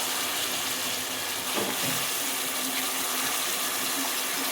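Water pours steadily into a container to rinse broad beans, a continuous close splashing rush with a brief gurgle in the middle.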